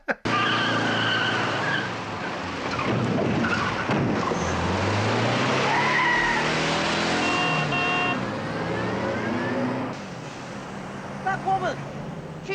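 In a film scene, a car drives off with squealing, skidding tires and engine noise rising and falling, loud and close.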